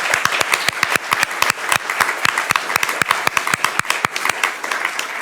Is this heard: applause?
yes